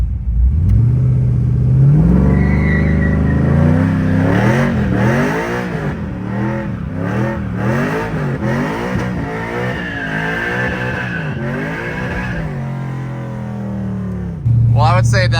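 A WS6 car engine revs hard in first gear, rising and falling through repeated sharp climbs and drops in pitch. The revving is loud and close and runs nearly the whole time, with a brief voice near the end.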